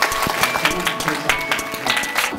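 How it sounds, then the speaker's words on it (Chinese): An audience at a post-screening talk with the director and lead actress claps in a lively round of applause, with voices mixed in underneath. "掌声欢迎导演跟他的夫人"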